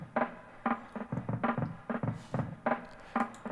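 A drum loop runs through a Digitech Whammy set slightly sharp and mixed half and half, giving each hit a doubled, slapback-like smear in a busy, repeating groove without speech.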